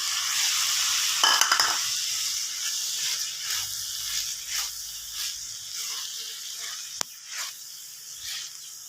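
Tomatoes dropped into a hot pan for macaroni, a bright hissing sizzle with a burst of crackle near the start, then softer stirring scrapes and one sharp tap against the pan.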